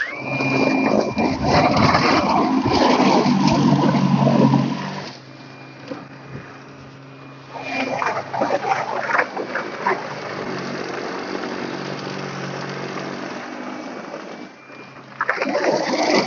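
A single-stage Toro snow blower churns through a deep snow drift with a loud, steady engine roar that dips briefly twice before surging back, heard close and alone.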